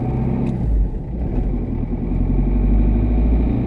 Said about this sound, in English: So whilst we get the car up to speed and see how well it performs